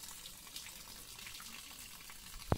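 A faint, steady trickle of water runs from a hole in the stone wall of Gambhir Gad fort, distant and unbroken, ending on a sharp click.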